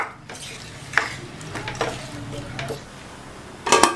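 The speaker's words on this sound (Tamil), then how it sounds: "எல்லாத்தையும் நல்லா ஒன்றா கலந்து விட்டுறலாம்" A spoon stirs drumstick masala with water and salt in a cooking pot, giving several scraping, clinking strokes against the metal, close and fairly loud, with a sharper clatter near the end.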